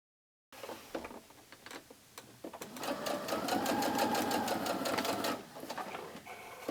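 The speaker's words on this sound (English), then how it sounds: "So let's go ahead and get to sewing." A sewing machine stitches quilt fabric in a steady, rapid mechanical run after a short silence, close and clear, with small starts and stops before the longer continuous stretch.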